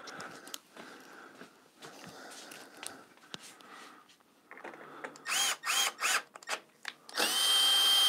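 A power driver spins out long Torx screws from a BMW R1250GSA motorcycle, whirring in short bursts with pauses and clicks between them, close by, growing louder toward the end.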